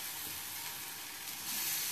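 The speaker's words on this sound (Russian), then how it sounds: "По времени кабачки не жарят." Zucchini frying in a pan at home, an even crackling sizzle that swells slightly toward the end, alone and fairly quiet.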